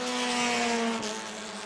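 Bomber-class race cars howl around the New Smyrna track in a steady, loud engine drone with a slight pitch drop as the pack passes.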